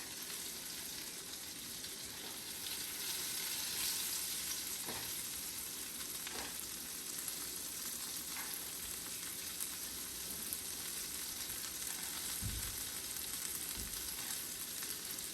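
Morel mushrooms pan frying, a steady, moderately quiet crackling sizzle that runs continuously, with a few faint clicks and low bumps from the pan along the way.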